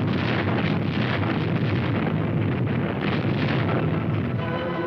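Naval guns exchange fire with coastal batteries during the Operation Dragoon landings in World War II, a dense, continuous roar of gunfire and rumbling blasts, loud and unbroken, with no speech.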